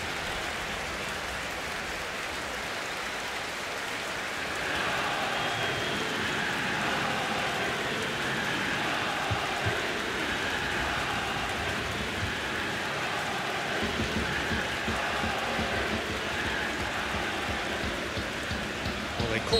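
Dense, steady stadium crowd roar from a PES 2020 football match between Juventus and Fiorentina, a continuous wash of cheering that swells slightly a few seconds in and holds loud throughout with no clear individual voices.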